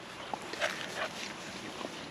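Three dumped puppies near a house give faint, high whimpers and a few short yips and barks, scattered and thin over quiet background.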